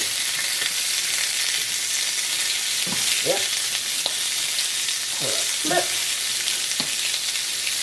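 Food browns in a pan with a constant, even sizzle throughout, and a few brief scraping or stirring strokes rise above the frying.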